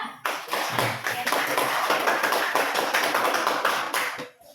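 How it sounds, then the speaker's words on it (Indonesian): A classroom audience claps together in a dense burst of applause lasting a few seconds, steady and fairly close, then fading out at the end. "berikan aplaus untuk Sarmada"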